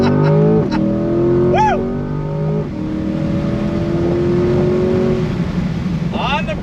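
A 2022 Chevrolet C8 Corvette accelerates hard on throttle, its engine note climbing in pitch through rising sweeps before dipping at a shift and pulling again, loud and close, while an occupant lets out an excited shout.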